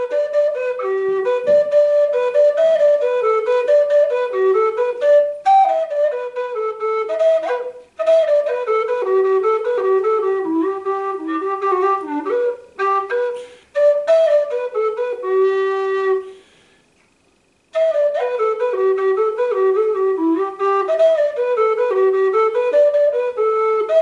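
A low whistle plays the Stone of Destiny reel alone, a clear run of ornamented notes flowing steadily with a few short breaks between phrases.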